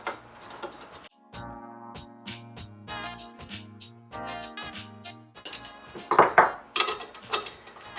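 Small metal hardware, a bolt, washer and lock nut, clinks and rattles in a series of light, close taps and scrapes with brief pauses between handling sounds.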